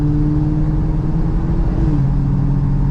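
A Chevrolet Camaro SS accelerates from 0 to 60, a loud, steady engine drone and road rumble heard from inside the car, its pitch holding fairly even with a slight dip, no talk.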